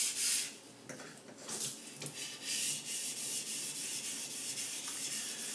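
Takeda gyuto kitchen knife sharpened on Imanishi 1K and Blue Aoto 2K whetstones, with repeated wet scraping strokes of steel across stone, close and rhythmic, alone without talk.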